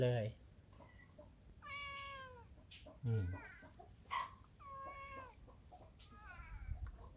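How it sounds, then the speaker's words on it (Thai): Many cats crowd around a hilltop temple, Wat Tham Mu, letting out repeated drawn-out meows one after another, some close and clear, others softer, while a voice speaks at times among them. "นี่เหมียวโอ้โห มาเติมเลย เป็นขบวน"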